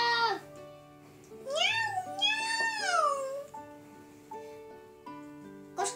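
A human voice imitates a cat in a Repka puppet show, giving drawn-out rising and falling meows at close range between quieter stretches of narration, with steady background music underneath.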